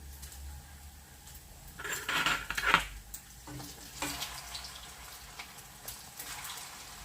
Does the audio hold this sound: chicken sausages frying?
yes